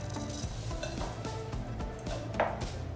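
Light cocoa being mixed into dry cake ingredients with baking powder and salt in a bowl for red velvet cake, heard as quick scraping and clinking strokes of a utensil against the bowl over a few seconds.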